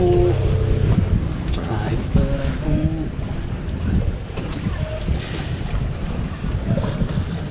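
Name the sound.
boat travelling on water to Pulau Kunti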